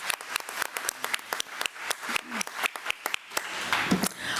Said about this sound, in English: let's give our physical therapist another round of applause.